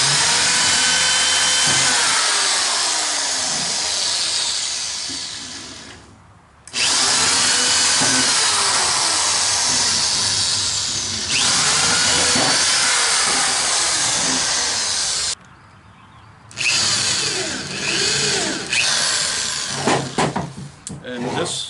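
A power drill drives screws into the bottom frame of a wooden glider swing, running in long loud whirring bursts with short pauses between, ending in shorter stuttering pulses, close and continuous.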